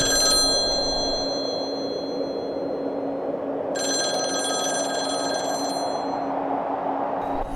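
Telephone bell ringing as a sound effect in a horror story, with two bursts of bright electronic ringing separated by a short pause, heard alone over a low hum.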